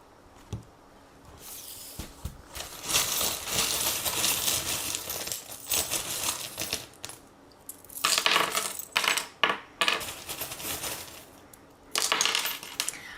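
Small oracle charms are shaken and cast, producing bursts of bright metallic clinking and jingling that come in irregular clusters, close and fairly loud, with no voices over them.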